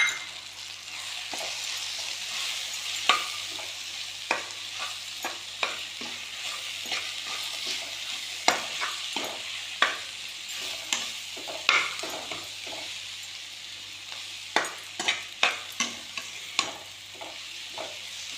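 Onion tadka for eggplant bharta roasts in a pan, with a steady low sizzle under frequent close scrapes and taps of a spoon stirring it, with no voices throughout.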